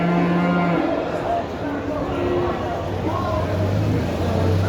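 Cattle, including young calves and dairy cows, low repeatedly at a busy livestock market in Khachmaz, several deep moos overlapping close by amid constant crowd chatter and background noise.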